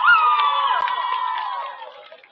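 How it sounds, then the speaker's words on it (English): A high school homecoming crowd cheers and whoops for the cheer team, a loud sustained roar of shouting voices, including children's, that gradually fades toward the end. "Let's give one more cheer for the cheer team!"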